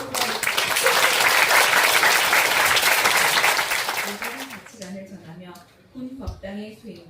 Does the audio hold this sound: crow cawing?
no